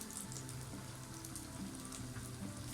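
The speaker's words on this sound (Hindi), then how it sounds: "ये आप देख सकते हैं मैं फ्राई कर रही हूँ बगैर अंडों के इसको" Eggless potato patties (aloo tikki) shallow fry in oil in a pan over low heat, giving a steady, soft crackling sizzle with scattered pops, close and fairly quiet, with no talking.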